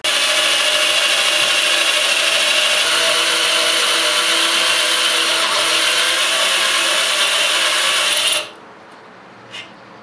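A drill grinds steadily and loudly into a broken bolt for about eight seconds, a harsh continuous metal-cutting whine, then cuts off abruptly, followed by a brief faint click.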